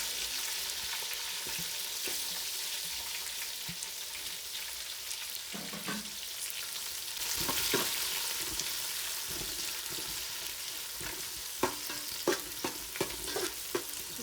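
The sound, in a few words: onions frying in a pan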